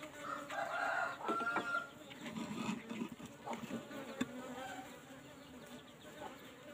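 Asian honey bees (Apis cerana) buzz around an opened old wooden hive box after smoking, a close, continuous drone with chickens clucking nearby in an outdoor yard.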